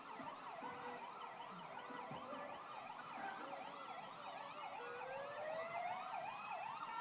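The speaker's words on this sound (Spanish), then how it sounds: "Con todas las sirenas a todo tren," Emergency vehicle sirens wail and yelp together in rapid overlapping cycles, steady and fairly distant, with faint road noise underneath, during the Three Kings parade in Vigo, Spain, 2015.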